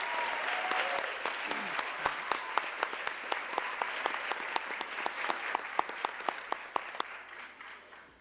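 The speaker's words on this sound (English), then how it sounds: "Let's give them all a round of applause." An audience applauds at a regional educators awards and scholarship program, dense sustained clapping from a large crowd that carries on evenly, then thins and fades near the end.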